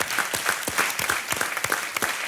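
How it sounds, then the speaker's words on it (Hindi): Studio audience on the Hindi quiz show Kaun Banega Crorepati applauds a contestant, with fast, dense clapping close by and individual sharp claps cutting through the steady patter. "तालियों के साथ इनका अभिनंदन करते हैं"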